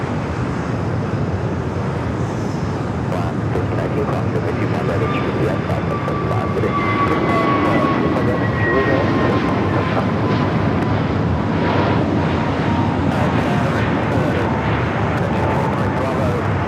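Alaska Airlines jet taxiing at LAX, a steady loud engine roar with faint rising and falling whine tones drifting through, continuous and nearby.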